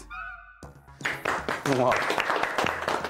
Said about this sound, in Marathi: रजनी, ह्या टाळ्या सगळ्यांसाठी आहेत.